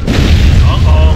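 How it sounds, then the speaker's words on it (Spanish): A deep, heavy explosion in Gears of War Judgment rumbles as a sustained low boom, loud and close, filling the whole moment with a rolling roar as a building is weakened. "La explosión debilitó el edificio."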